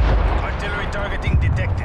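Artillery fire in the video game Call of Duty Cold War: a dense, continuous rumble of booming bursts layered with other battle noise, with voices mixed in.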